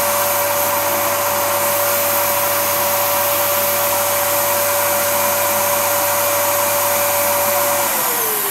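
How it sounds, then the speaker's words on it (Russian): A suction-driven Feynman sprinkler turbine spins on its bearings, giving a loud, steady whirring drone with a constant tone that holds for several seconds and then drops as it winds down near the end, with no voices. "И вот эта турбина на всасывании разгоняется, на всасывании, до 30 оборотов в секунду."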